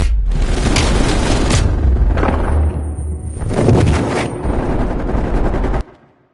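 Weapons fire in a Call of Duty: Black Ops Cold War campaign mission, with loud, close bursts of automatic gunfire and heavy booms. The firing hammers almost continuously for about six seconds, then cuts off abruptly.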